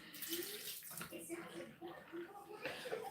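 Tap water running in a bathroom while a small child plays with it, a continuous splashing rush with voices talking over it throughout.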